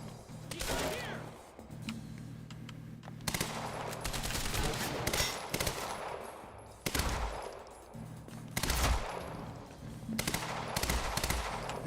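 Machine gun fire in the shooter game Quantum Break, repeated loud bursts of rapid shots separated by short pauses, with a voice talking faintly under the gunfire.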